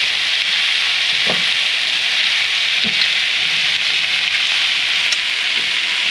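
Onions and red pepper dusted with paprika fry in a pan for a leftover brisket hash, giving a steady, close hiss of sizzling with a few soft stirring knocks scattered through.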